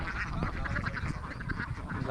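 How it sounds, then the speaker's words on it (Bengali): Thousands of ducks quack together in a dense, overlapping chorus, loud and close, with a faint voice mixed in. "বন্ধুরা এখানে কত হাজার হাজার হাঁস"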